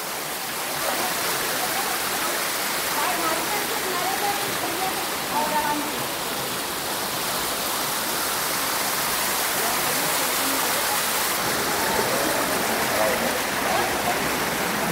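Water flowing down the temple steps into the kund at Galta Ji Temple in Jaipur, a broad, steady rushing wash like a small waterfall, close and continuous, with a person talking over it.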